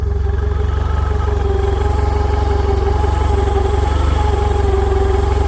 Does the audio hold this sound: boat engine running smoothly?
yes